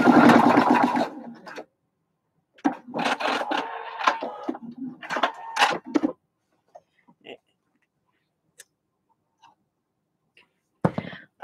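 A sewing machine basting a quarter-inch seam along a fabric edge on a cinch bag: two bursts of rapid stitching separated by pauses, then faint clicks and a brief final whir.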